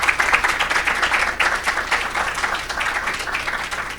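An audience at the opening of an ESG academic forum in Korea applauds, a sustained wash of clapping with some individual claps standing out, moderately loud throughout.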